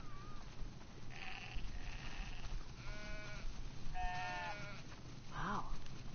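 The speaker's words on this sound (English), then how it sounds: "Wow, that's a lot of sheep." Several sheep bleating in a video game, The Last of Us Part II, with short overlapping calls in bursts across the clip over a steady low background hum.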